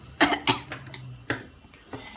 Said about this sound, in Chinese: 突然想咳嗽